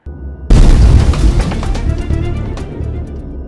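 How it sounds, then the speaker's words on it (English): A huge, deep boom bursts in suddenly after a short low rumble, then rolls on as a long, crackling roar that slowly thins and fades, standing alone as a dramatic sound effect for the Big Bang. "Ule mlipuko wanauita big bang au wanauita secondary separation."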